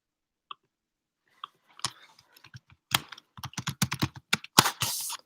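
Someone types on a computer keyboard in a quick, irregular run of close, crisp key clicks that begins sparse and grows into a dense flurry of taps near the end.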